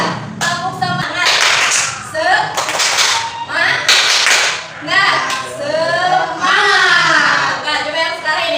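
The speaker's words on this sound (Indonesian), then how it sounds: "Ayo 1, 2, 3. Tepuk semangat." A group performs a rhythmic spirit clap in a classroom movement session, sharp claps in quick bursts mixed with loud, overlapping voices chanting and talking throughout.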